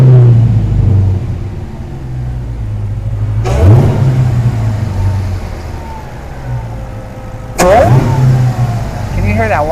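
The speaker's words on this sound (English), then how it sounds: "Can you hear that whine of the supercharger?" Petty's Garage supercharged car engine rumbling inside the cabin, then revving hard twice with rising supercharger whine on each acceleration, loud and close, with someone talking over it.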